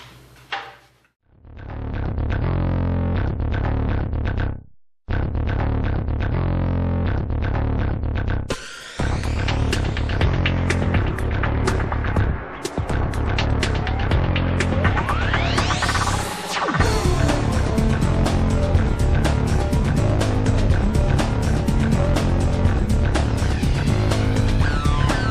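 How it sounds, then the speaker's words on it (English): Tack welding on a steel pro welding table top: a loud, steady crackling buzz of the arc that runs in long stretches, broken by a few short pauses between welds. "tack weld time."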